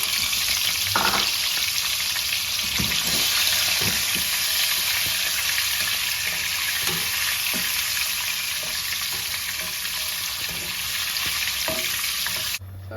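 Potatoes fry in a pan with turmeric and salt, giving a steady, close, loud sizzle that runs without a break, with a few soft stirring scrapes and knocks and no voices.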